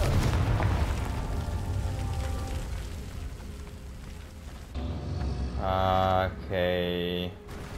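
A Confringo fire spell blasts in Hogwarts Legacy with a booming burst, followed by crackling debris and a bright ringing magical chime, all without speech.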